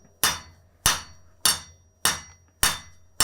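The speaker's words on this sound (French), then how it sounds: "Mon marteau, je le tiens pas, il rebondit tout seul." A village blacksmith's forging hammer strikes metal on the anvil six times at an even pace, each sharp ringing blow decaying before the next bounce.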